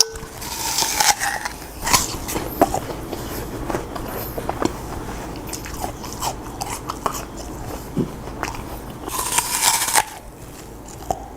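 Someone eating a crunchy apple in a fruit mukbang, with repeated crisp bites and crunches. Sharp snaps are scattered close to the mic over several seconds, chewing noises sit between them, and no one speaks.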